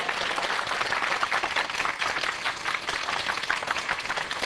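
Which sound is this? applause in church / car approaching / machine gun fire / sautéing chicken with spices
applause in church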